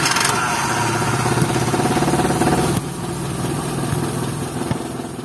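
A 1996 Suzuki Katana GX car engine runs at a steady idle, a continuous low rumble with a slight change in tone partway through, close and fairly loud with no talking.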